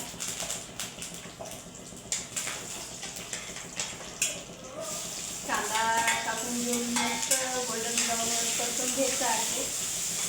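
Mustard seeds, cumin and curry leaves hit hot oil in a pan, crackling and popping at first, then settling into a fuller, steady sizzle, heard close and moderately quiet.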